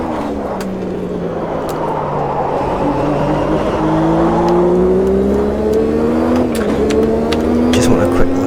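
A 1989 Formula 1 car in a racing video game, its engine whining upward steadily through the revs, loud and continuous with a voice talking over it.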